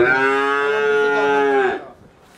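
A young Holstein Friesian heifer calf gives one long, loud, close moo lasting almost two seconds, then stops abruptly, leaving quiet background.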